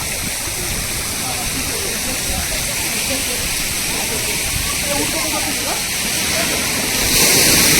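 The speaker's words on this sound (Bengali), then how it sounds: "মাঝে মাঝে এটা থেকে জল পড়ছে" Water pours and splashes down from a play structure at a private resort water park, a loud steady hissing rush that swells slightly at the end, with children's voices mixed in.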